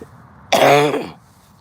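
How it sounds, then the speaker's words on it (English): A single harsh cough or throat-clearing burst outdoors in a cemetery in Salem, Oregon, close and loud, lasting about half a second before trailing off into quiet. "The damp air makes me cough."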